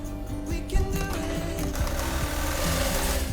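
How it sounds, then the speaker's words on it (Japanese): A large-hook industrial sewing machine stitches through thick leather, running as a steady, close mechanical whir with rapid rhythmic clatter and no talk. "次は大釜ミシンで、縫っていこうと思います。"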